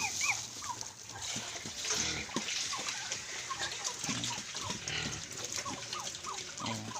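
Native pigs eating pumpkin rind mixed with corn and rice bran feed, giving repeated close smacking, chewing and snuffling sounds with a few faint grunts over a steady outdoor background.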